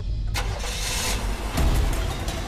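A car engine cranks and catches, then runs and pulls away, a steady mid-level motor rumble that swells slightly after a second or so.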